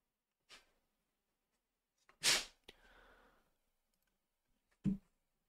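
A single sharp burst from a person mid-sneeze, loud and close, set among a few faint clicks and a soft breath in an otherwise quiet room.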